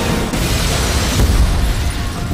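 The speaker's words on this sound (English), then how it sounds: "These massive sequences with cars flipping and explosions everywhere." A loud, rumbling movie explosion from The Matrix Resurrections, a sustained heavy boom with deep low-end weight rolling on for about two seconds, swelling near the middle before easing off.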